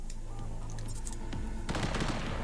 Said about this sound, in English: There's gunfire raging all around me while I'm doing this